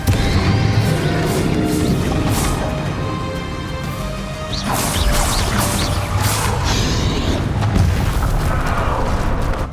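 Confringo and Bombarda explosion spells cast in Hogwarts Legacy, a loud sustained barrage of crashing blasts, booms and whooshes with mechanical clatter, repeated bursts overlapping across the whole stretch.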